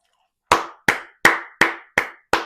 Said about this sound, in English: this is deserving of a clap